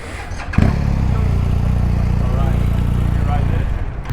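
A 2021 BMW R1250RT motorcycle engine runs steadily while riding, a low continuous drone with wind rush, and a person talks over it.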